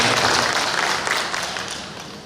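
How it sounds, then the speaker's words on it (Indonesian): Dense applause from a crowd, loud and continuous, slowly tapering off toward the end. "Tepuk tangan dulu rekan-rekan sekalian."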